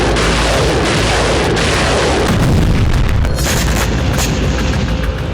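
Russian artillery and missile strikes in Ukraine thunder as heavy, loud booms rolling into a continuous rumble, with sharper blasts and crackling bursts layered over the dense, sustained roar.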